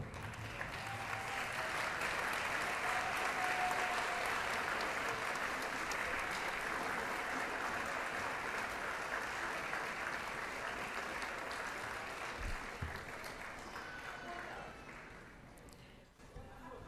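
A large crowd at a graduate school commencement ceremony applauds continuously, a dense wash of clapping that holds steady and then tapers off near the end.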